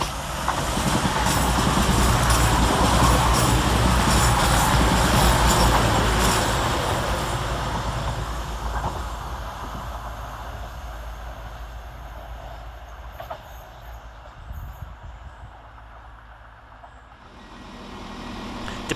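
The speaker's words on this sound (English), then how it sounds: "Coming back some 7 minutes late is 222006, working 1 Charlie 32 from East Midlands Road from Sheffield to London St" A Class 222 diesel passenger train, unit 222006, passes through Woodhouse railway station with a loud, sustained rumbling roar and rail clatter that gradually fades as it moves away, with no talking over it.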